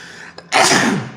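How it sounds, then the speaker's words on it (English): A single sharp human sneeze, close and loud, preceded by a short inhale with a small catch of breath. "That sneeze came out of nowhere."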